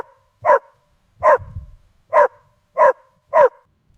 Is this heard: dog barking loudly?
yes